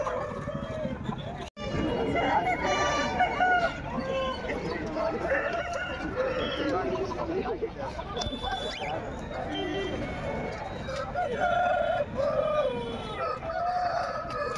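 Roosters crow again and again at a crowded Friday chicken market, many tethered birds calling over a dense hubbub of voices and bustle.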